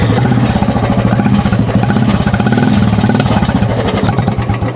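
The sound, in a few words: Royal Enfield Bullet motorcycle engine running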